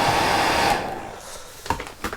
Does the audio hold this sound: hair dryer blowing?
yes